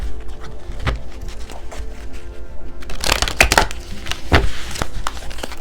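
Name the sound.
shuffling tarot cards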